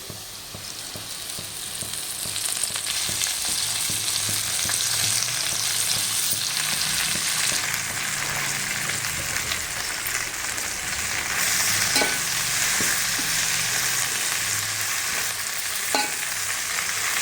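Gongura leaves and well-browned onions frying in a pan for gongura chicken curry, a steady loud sizzle throughout with occasional stirring scrapes and light clicks.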